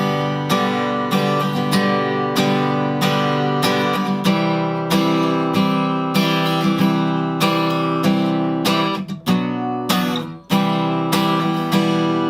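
Guitar strums the chorus of a song, steady rhythmic chords ringing loud and close with no talking over them, briefly pausing near the end.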